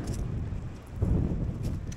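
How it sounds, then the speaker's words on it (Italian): Strong wind buffets a microphone on a mountain ridge, a steady low rumbling roar that swells and dips, close and loud, with no voices. "non so se si capirà qualcosa perché c'è un gran vento"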